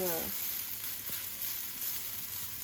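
Chow mein noodles frying in hot oil for beef chow mein, a steady close sizzle and hiss after a brief tonal sound at the start, no talk.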